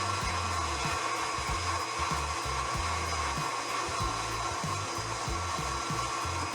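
An electric mixer beats egg whites with hot cooked sugar for a frozen honey nougat, its motor whirring steadily and loudly throughout without pause or voices.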